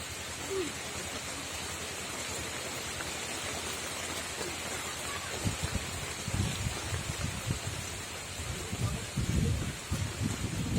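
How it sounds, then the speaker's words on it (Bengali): Heavy rain pours down outdoors during a river fishing outing, a steady dense hiss throughout with louder low rumbling bursts building in the second half; no voices. "খুব জোর বৃষ্টি এসে গেছে, খুব জোর বৃষ্টি এসে গেছে।"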